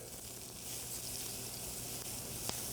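Mirepoix of onions, celery and carrots dropped into a hot pan of veal drippings, giving a steady, fairly quiet hiss and crackle of frying close up with one small clink.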